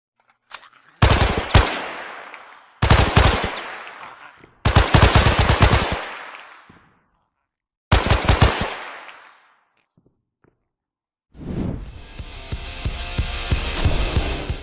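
Automatic gunfire rings out in the mobile FPS game Hazard: four sharp, loud bursts separated by pauses, then a longer sustained stretch of rapid fire.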